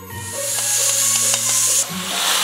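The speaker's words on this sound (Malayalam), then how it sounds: "കടുക് പൊട്ടി തുടങ്ങി" Mustard seeds splutter and crackle in hot oil in a pan, a loud close sizzle with a steady bright hiss and faint pops, heard alone without speech.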